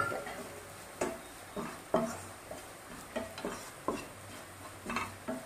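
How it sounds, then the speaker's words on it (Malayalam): Spices and garam masala powder are sautéed in a pan for paneer masala, with soft stirring scrapes and light taps of the spoon repeating about once a second, faint and close, and a low sizzle under them. "ഇനി ഇത് നമുക്ക് നോക്കി ഒന്ന് നല്ലപോലെ വഴറ്റാം."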